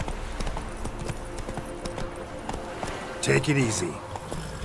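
Roach, a horse in The Witcher III, trots with steady, close clip-clopping hooves throughout, and a voice speaks briefly near the end.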